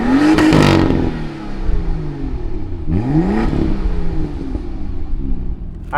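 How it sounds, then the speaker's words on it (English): The straight-six engine of a 2018 BMW M2 fires up with a sharp, loud rev, settles into a rumbling idle, then is revved again in a second rising burst before idling on, close and alone. "let's go ahead, fire up this straight six"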